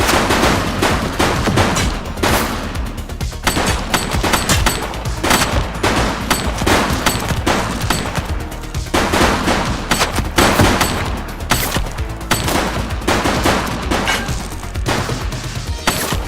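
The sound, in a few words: gunfire from a video game (The Precinct)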